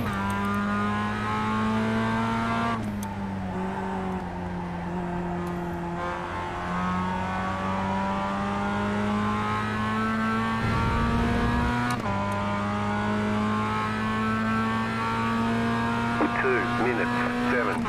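Mazda race cars in the iRacing game lapping the Hungaroring, steady engine drone with shifting pitch as the cars race close together, continuous and loud, with a voice talking over it.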